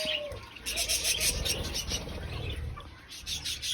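Budgerigars in an aviary give quick, high chirps and twitters in irregular bursts, fairly close but soft, over a low background rumble.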